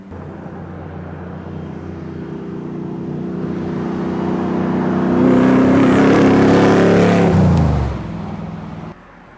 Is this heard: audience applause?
no